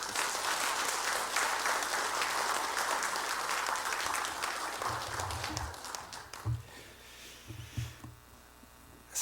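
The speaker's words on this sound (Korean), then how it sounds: "박수로 환영하도록 하겠습니다." A church congregation applauds to welcome a pastor on the third evening of a spring revival meeting, a dense sustained clapping that thins out after about six seconds, leaving scattered low thumps and a few last claps.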